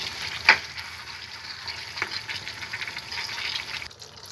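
Chicken frying with chopped tomatoes and salt in a pan, a soft continuous sizzle with stirring scrapes and one sharp clink of a utensil near the start, fairly close.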